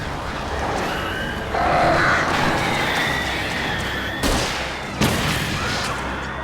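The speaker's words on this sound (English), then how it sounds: "These birds are weird." Crows caw and flap inside a cabin in Alan Wake Remastered, harsh calls over a dense, noisy game backdrop with a couple of sudden sharp bursts.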